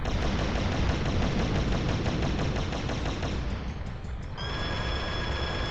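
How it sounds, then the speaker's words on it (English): A minigun in the Turok video game fires at bosses in a dense, continuous rapid burst of gunfire, loud and sustained, with a brief dip before the heavy firing carries on. "Minigun just whittles right through these bosses."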